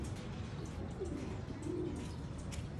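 Pigeons coo softly in a loft in the countryside, a couple of low murmuring coos under a steady, noisy background, with no talking.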